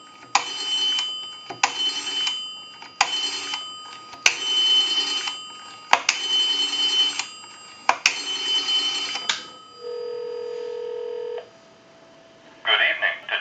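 Automatic Electric three-slot payphone dialing a number through an amplifier, a run of six evenly spaced tone bursts, then a single steady ring signal and a brief sound as the line picks up.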